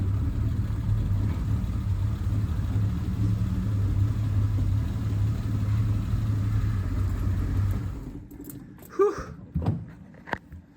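The engine of a 1970 Triumph TR6 hums steadily from inside the car on its first road test, a low drone that cuts off after about eight seconds, followed by a few quiet clunks.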